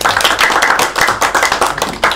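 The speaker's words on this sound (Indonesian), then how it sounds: "Jika tidak ada, mungkin bisa beri tepuk tangan." Classroom audience clapping together during a microteaching lesson, a dense steady patter of many hands close by for about two seconds with no talk over it.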